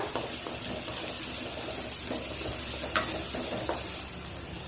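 Steady sizzling of onions sautéing in a pan, with occasional scraping stirs; no one speaks.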